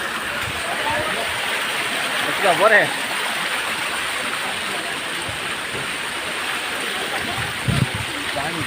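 A mountain stream flows steadily in the rain on the way down from Sundha Mata, a continuous broadband rush of water, with someone talking briefly over it.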